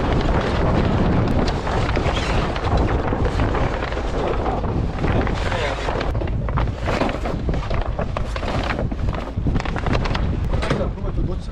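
Strong wind buffets a sailboat at sea as its sail is lowered, gusty roaring noise battering the microphone throughout, with people talking over it.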